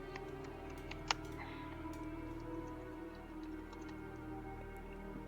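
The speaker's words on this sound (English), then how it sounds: "we can hear you typing" Light, steady computer keyboard typing at a low level, soft clicks spread evenly through a faint room hum with one sharper click near the start.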